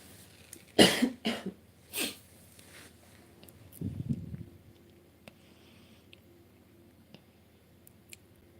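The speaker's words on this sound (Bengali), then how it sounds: "আমি আজকে লাইভের মধ্যে মাঝে মাঝে কাশি দিতে পারি" A woman coughs hard twice in quick bursts near the microphone, then clears her throat with a lower rumble, followed by a quiet room with faint clicks.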